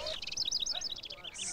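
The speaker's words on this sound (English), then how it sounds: "You're disturbing the birds in this park." Small birds chirp in a park during nesting season, a quick run of high, bright tweets in close succession, fairly faint and with no talk.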